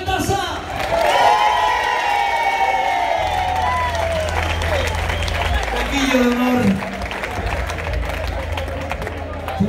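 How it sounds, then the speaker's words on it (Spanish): Applause and cheering for bassist Rafael Daza at a live Los Coquillos show, a crowd clapping and shouting throughout with whistles and voices mixed in, sustained and fairly loud. "Un fuerte aplauso, por favor, el más grande para Rafael Daza."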